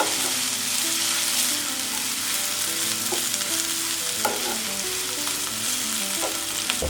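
Onion and garlic fry in a pan for a bitter gourd stir-fry, giving a steady, loud sizzle throughout with a few light stirring clicks and no talking.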